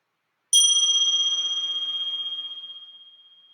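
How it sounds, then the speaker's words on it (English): A single meditation bell struck once, a bright ringing tone that sustains and slowly decays over about three seconds in otherwise silent surroundings. "at the sound of the bell here, we can just follow the sound of the bell"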